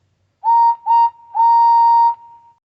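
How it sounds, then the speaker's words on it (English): Model steam engine train whistle in HO/OO scale, sounding loud and clear as two short toots followed by one longer sustained blast, alone in silence. "when suddenly he heard his whistle."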